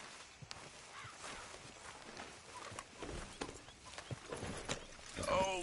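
Horse hooves in Red Dead Redemption 2 clop faintly in an uneven walking rhythm, with a soft whinny-like sound near the end.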